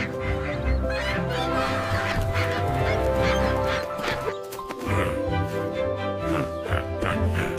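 Cartoon ducks quack and honk loudly and continuously at an animated party, a dense, busy chorus of calls over a steady tonal background.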